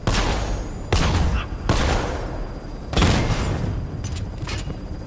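Loud, dense gunfire from the Batman Arkham Knight video game rattles through four or five sustained volleys, each broken off abruptly before the next begins, with booming low-end impact.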